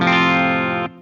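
Electric guitar played through an ENGL Ironball SE tube amp with reverb, a single loud distorted chord ringing out and sustaining, then cut off sharply near the end with a short reverb tail.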